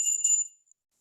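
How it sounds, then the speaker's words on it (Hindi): A small bell rung during a home puja, one bright metallic ring that decays within half a second, heard alone and close. "आपको पीछे से घंटी की आवाज आ रही होगी, घर में पूजा चल रही है ना"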